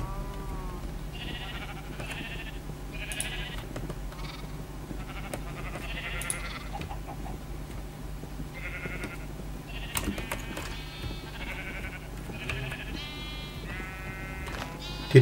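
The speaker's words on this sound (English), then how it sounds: "Did they make another purple sheep?" Sheep bleating in the video game Minecraft, several short bleats in a row spread across the clip over a steady low background hum, at moderate loudness.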